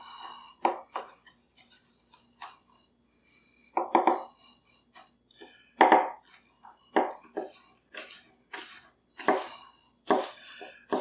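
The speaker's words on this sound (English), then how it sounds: "It did a really nice job, really nice dice, and it didn't get hung up in the density of the onion" A Paudin VG10 Damascus chef knife dices an onion, giving a close run of crisp, irregular chopping strikes with short pauses between cuts and no voices.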